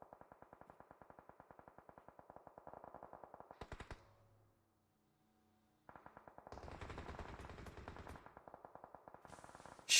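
Rapid automatic gunfire rattles in PUBG Mobile in long bursts, cuts out for a near-silent gap of about two seconds, then resumes in another dense volley, with a sharp final shot.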